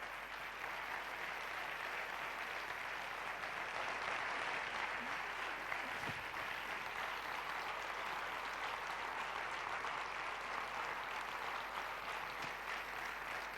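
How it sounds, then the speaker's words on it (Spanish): Sustained applause from a conference audience welcoming yoga teacher Ramiro Calle, a dense, even roar of many hands clapping that holds steady without a break. "un fuerte aplauso para Ramiro Calle."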